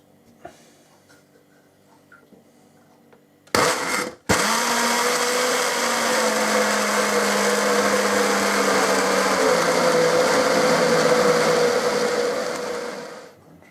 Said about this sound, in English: it's because I'm using an old blender